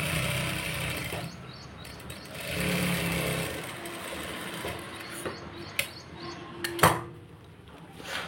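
A sewing machine stitches a blouse, running with a steady whirring drone for several seconds, then stopping and giving way to scattered clicks and small metallic clatters.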